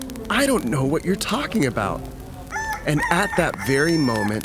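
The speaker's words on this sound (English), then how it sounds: "Peter heard the rooster crow." A rooster crows in the storytelling of Peter's denial at Galilee, a drawn-out cock-a-doodle-doo with rising and falling tones, heard under and between a narrator's continuous talk.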